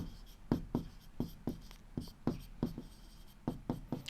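Pen strokes scratching across a notebook page during a Class 7 maths lesson on lines of symmetry, a brisk run of short rhythmic scrapes that come in quick pairs and groups, close and clear with no talking.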